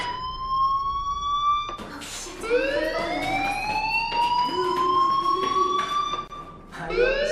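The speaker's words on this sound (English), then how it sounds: "Hey, do you hear that fire alarm?" A fire alarm rings in the video game Life Is Strange: loud, rising electronic tones with strong harmonics that sweep upward in repeated cycles and cut in and out over steady background ambience, with no talk.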